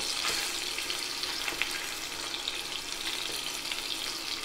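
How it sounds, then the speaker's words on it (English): Steak fat searing in olive oil and butter in a hot pan, a steady close hiss and crackle of frying that holds evenly throughout with small pops scattered across it and no voices. "Just kind of sear that fat a little bit first."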